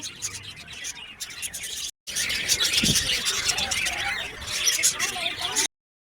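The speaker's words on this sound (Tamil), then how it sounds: "புறா இருந்துச்சு, பெரிய பெரிய வகை புறா. இதோட சத்தம்லாம் ரொம்ப அழகாக இருந்துச்சு." Large pigeons cooing in a cage at a shrine grounds, a low soft coo rising briefly near the middle amid busy birdsong and chirping, with a short dropout partway through.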